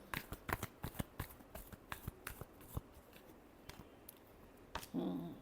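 Tarot cards shuffled by hand, a quick run of crisp riffling clicks and flicks close by, ending in a brief louder rustle.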